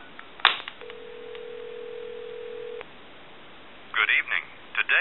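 A vintage Spirit of St. Louis telephone gives a click, then a steady dial tone for about two seconds, which cuts off as the number is redialed; a recorded voice follows at the end.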